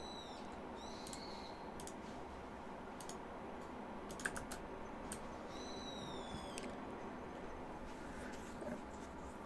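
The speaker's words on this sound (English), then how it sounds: "Let me type" Keys clack in quick, uneven bursts on a computer keyboard, fairly quiet, with a few chirping birds in the background and no talking.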